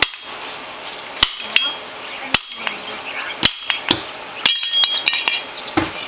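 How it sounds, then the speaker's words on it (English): A steel hammer strikes the solid rear axle of a Honda Foreman 500 ATV during a differential teardown, a series of sharp, irregular metallic knocks spaced about a second apart, close and loud with faint ringing between blows. "It doesn't have a snap ring or anything on it, so you can just knock it out with a hammer."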